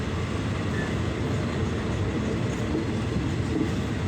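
Ordinary passenger train 284 on the Chuk Samet–Bangkok line pulling into U-Tapao station, Thailand: a steady, loud rumble of rolling railcars with a dense low roar and faint wheel noise, no voices.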